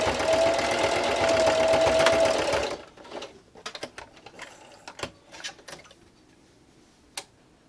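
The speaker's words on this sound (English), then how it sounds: "and then just keep sewing. I'm coming up to my end and backstitch." A sewing machine stitches a fabric pencil holder bookmark in a loud continuous run, ending with a short backstitch. Quieter clicks and handling noises follow.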